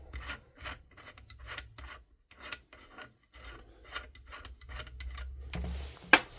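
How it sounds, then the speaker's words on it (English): A flash hider with a 14mm counterclockwise thread is unscrewed by hand from a VMP 2 airsoft rifle, making a dry rasping, rubbing scrape in short repeated strokes, close and fairly quiet, ending in a sharper final click. "Unscrew them and then unscrew your flash hider."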